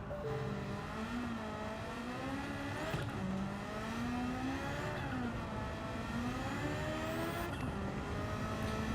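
A 1962 Mercedes diesel car engine races in Gran Turismo 7, droning steadily with rising and falling pitch sweeps as it works through gear changes, loud and continuous with no one talking.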